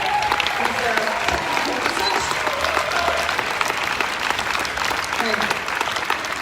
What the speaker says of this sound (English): Another round of applause for Ollie.